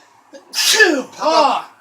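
A single sharp sneeze with a quick breathy intake, followed by a short voiced sound, close and loud.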